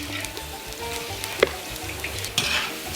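Carrots frying in a pan with sugar and cumin for plov, a steady close sizzle with stirring scrapes and a sharp clack partway through.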